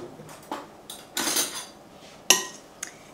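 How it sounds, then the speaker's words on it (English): Food for a vegan zucchini dish stirred in a pan, a few separate scraping and clinking strokes of a utensil against the cookware, close and fairly quiet, with no voices. "I'm going to give that a stir."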